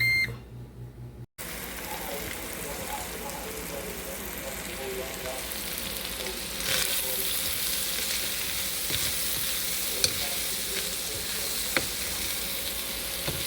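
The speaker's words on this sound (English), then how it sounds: "Put on air frying at 400, and then I start up." An air fryer set to air fry at 400 degrees runs with a steady hissing, sizzling whir, with a few short beeps near the start and a couple of faint clicks later.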